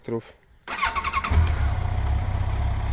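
A Yamaha FJR motorcycle with about 50,000 km on it fires up after a brief voice, settling into a steady, close, low engine idle that runs on to the end.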